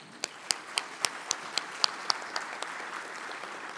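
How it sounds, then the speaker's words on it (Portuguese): Audience applause at the opening ceremony of the ABRINT 2017 conference, with a steady wash of clapping from a large crowd and a few sharp, close individual claps standing out in a regular rhythm. "queremos agora, com carinho do nosso aplauso, manifestar esse agradecimento"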